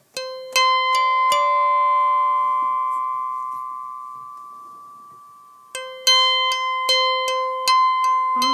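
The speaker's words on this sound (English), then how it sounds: "Oh, I want that bell sound." A synthesizer bell patch from Rings and Plaits modules rings in bright, resonant struck tones, a quick cluster of hits whose ring decays slowly, then a renewed run of rhythmic bell strikes overlapping one another.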